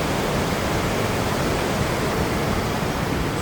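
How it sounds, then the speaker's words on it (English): Water pouring out of a lava tube on the Upper Rogue River, a dense, steady rushing roar that stays close and even throughout, with no voices over it. "right there is where the water comes out of the lava tube"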